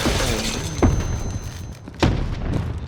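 Explosions in Call of Duty: Modern Warfare (2019) gameplay, with three sharp blasts spaced about a second apart, loud and close, over a constant roar of battle noise.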